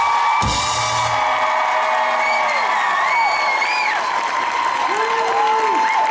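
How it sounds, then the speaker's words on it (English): A convention crowd at a fan event applauds steadily with cheers and whoops, while a long gliding whistle carries over the continuous clapping. "That applause needed a whistle."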